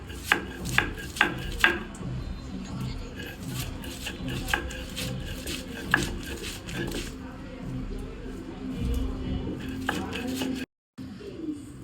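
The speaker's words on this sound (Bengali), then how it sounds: "এখন পেঁয়াজ আর ভর্তা মিশানো হচ্ছে।" Onion is mixed by hand into a mashed dried-fish bharta, giving repeated squelching, rubbing and tapping sounds with several sharp knocks, close and fairly loud, while a voice talks in the background.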